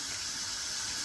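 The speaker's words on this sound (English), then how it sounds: "So let me run some water in this other side of the sink." Tap water runs steadily into one side of a kitchen sink while muscadine grapes are rinsed, a close, continuous hissing rush with no voices.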